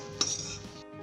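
A metal spoon scrapes and clinks against a pan as spicy scrambled egg bhurji is moved onto a plate, one sharp clink followed by softer scraping, close and alone.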